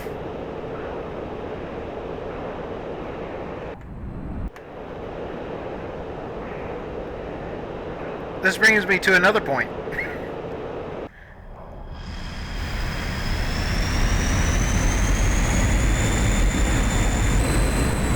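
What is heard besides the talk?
MiG-21bis jet engine in DCS flight simulator video game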